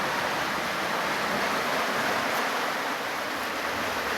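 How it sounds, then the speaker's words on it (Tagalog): Strong floodwater rushes past houses during light but continuing rain, a steady, dense roar that holds loud and unbroken throughout, with no voices. "Grabe yung lakas ng tubig."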